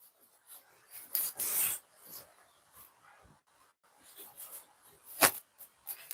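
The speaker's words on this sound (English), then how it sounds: "Next, we cut the pockets." Scissors cutting fabric pockets for a flared dress with a collar: intermittent close rasping snips and rubbing strokes, with a brief longer cut near the start, in a quiet room.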